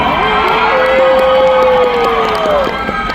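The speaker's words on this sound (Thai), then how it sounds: "ขอเสียงปรบมือและกรี๊ดอันกึกก้องมอบให้กับผู้ชายคนนี้" A concert audience at a Thai golden-oldies song show cheers, screams and claps for a male singer. The crowd noise is loud and continuous, with a long, high sustained shriek rising above it.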